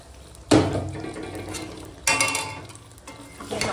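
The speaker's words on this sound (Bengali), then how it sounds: "এবারে একটু ঝোল বানাবো, তার জন্য একটু জল দেবো।" Water splashes into chicken curry in a cooking pot in two sharp bursts, the first loud pour, then a second shorter gush, with clinking and stirring in between and no talk.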